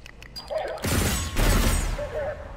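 A grenade explodes in the shooter video game Adaca, a sudden loud blast followed by a second booming burst and a rumbling, crackling decay, with a voice talking briefly before it.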